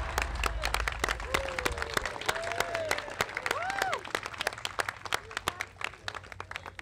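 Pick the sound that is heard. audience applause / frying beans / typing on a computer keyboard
audience applause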